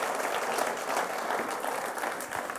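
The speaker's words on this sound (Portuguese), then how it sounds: "Dê um aplauso ao Senhor, mais forte que você puder." Church congregation applauding loudly for the Lord, a dense, steady wash of clapping that holds at full strength from start to finish without speech.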